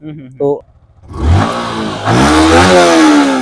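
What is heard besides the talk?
Yamaha R15 v4 motorcycle exhaust revving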